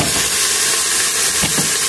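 Steady loud sizzling of garlic and onion frying in a pot, a continuous hiss with a couple of brief stirring scrapes near the end.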